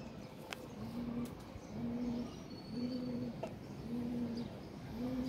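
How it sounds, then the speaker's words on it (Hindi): A pigeon coos in a steady series of about five low, rounded calls repeating at an even pace, fairly close and clear against a light outdoor background hiss, with no one talking. "हमारा टेडी कबूतर।"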